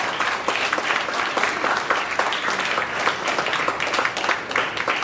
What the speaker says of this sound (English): I'd love it if we could give him a huge round of applause